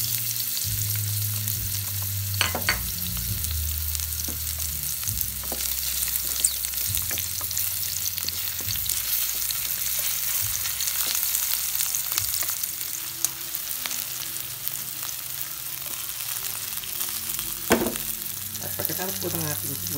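Onions frying in three tablespoons of lard in a pan for pork giniling picadillo, a continuous crackling sizzle with scattered stirring scrapes and occasional clinks, close and steady throughout.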